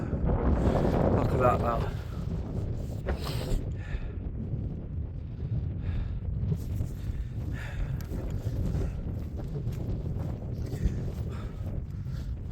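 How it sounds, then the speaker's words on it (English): Wind gusts across the microphone on a Lake District mountain near Grey Friars, a steady broad rush throughout, with someone talking briefly over it. "Hopefully the wind drops."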